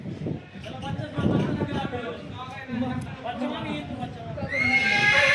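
A frightened young horse foal neighs at the Yeola horse market, its whinnies ringing out amid people talking and general market chatter nearby.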